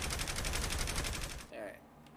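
Rapid automatic gunfire in the video game Saints Row: The Third crackles in a dense burst of fast shots for about a second and a half, fairly faint, then breaks off into a short tail of quieter sounds.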